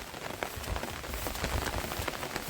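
Rain patters steadily on a surface, a dense spread of small drops hitting close by, with no voices.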